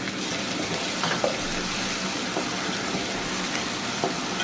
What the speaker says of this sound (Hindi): इसके अंदर हम हरा मसाला ऐड कर देंगे, इसको भी फ्राई करेंगे।